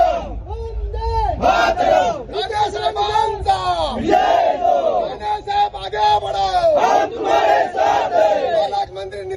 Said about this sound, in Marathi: तिथे कसा महायुतीच्या कार्यकर्त्यांमध्ये पदाधिकाऱ्यांमध्ये जल्लोष सुरू आहेत